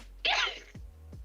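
One sharp sneeze bursts out close by in a quiet room, followed by a brief low murmur.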